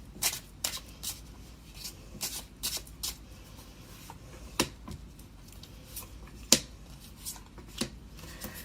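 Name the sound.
tarot cards being shuffled and drawn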